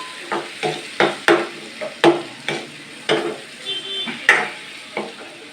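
Four peeled tomatoes go into hot oil, sizzling and clattering as they are stirred in repeated scraping strokes, close and fairly loud, with no talk.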